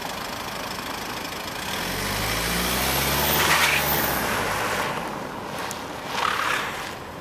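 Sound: Jaguar XF driving backwards through a slalom

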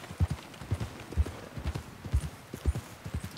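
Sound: horse hooves while riding down, from video game Red Dead Redemption 2

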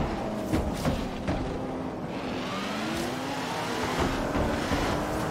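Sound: Le Mans prototype race car engine in Forza Horizon 3 video game

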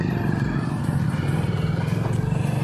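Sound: road traffic passing, motorcycle

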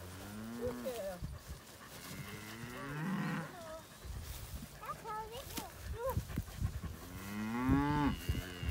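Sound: cows mooing at feeding time

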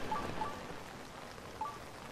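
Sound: rain in the video game Zelda: Tears of the Kingdom

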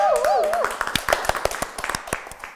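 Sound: audience applause

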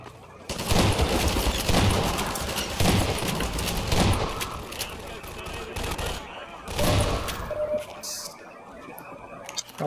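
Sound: mortar volley firing in the video game Half-Life 2

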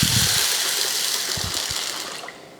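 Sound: water washing soaked lentils for vada

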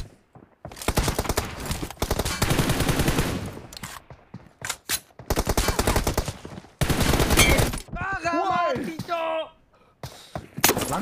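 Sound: gunfire from a video game (TDM match)

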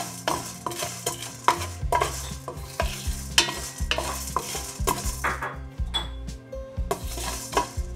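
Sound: dry roasting chana dal and urad dal in a pan

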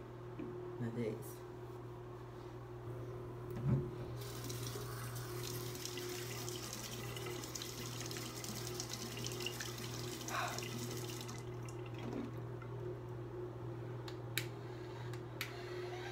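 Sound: running tap water used to dampen face

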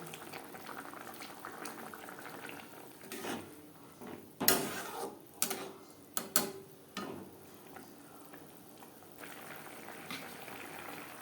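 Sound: Katla fish curry gravy boiling in the pan

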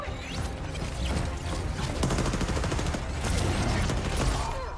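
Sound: fireworks explosions in Apex Legends video game trailer

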